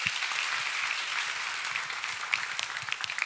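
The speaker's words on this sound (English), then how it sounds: "Let's clap for him." Students at a school freshers' orientation clapping for a classmate, a fairly even wash of applause throughout with a few sharper individual claps standing out near the end.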